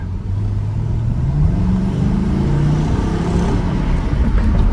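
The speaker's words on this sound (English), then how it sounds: "Wow, that sounds like a V8." A throaty car engine revs up steadily, its pitch climbing through the clip, loud and close with a continuous rumble.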